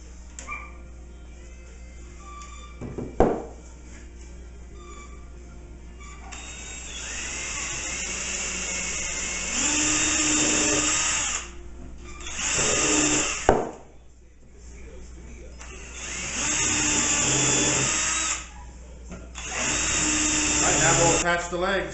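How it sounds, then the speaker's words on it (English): A hand drill bores the rest of the way through pre-drilled wooden entrance table legs, long whining bursts of the motor under load separated by pauses, with a voice talking at times. "I'm going to drill the rest of the way through with just a hand drill."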